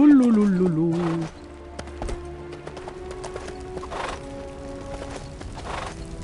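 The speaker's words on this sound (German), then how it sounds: "Geh doch mal da raus mit dem Pferd, das nervt." A horse whinnies loudly at the start in the LEGO Lord of the Rings video game, then hooves clip-clop in a steady rhythm beneath game music while a voice speaks.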